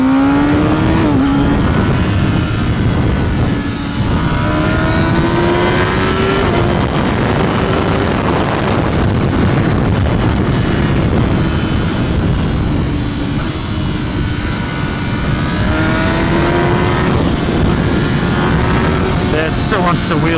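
A 2024 Kawasaki Ninja ZX-10R sportbike pulls hard on a mountain road, its engine note climbing steadily through the gears under constant loud wind rush, with a rider talking throughout.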